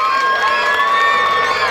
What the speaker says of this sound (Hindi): एक बार जोरदार तालियां होनी चाहिए इन